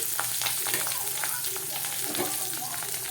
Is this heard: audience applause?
no